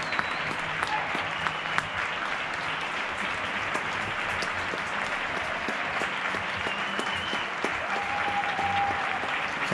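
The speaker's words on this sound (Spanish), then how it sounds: "duodécimo día de aplauso sanitario y de confinamiento vecinal" Neighbours clap from balconies for health workers during a strict lockdown in Getxo, a steady, far-off wash of many hands that lasts the whole time, with faint whistles and scattered voices mixed in.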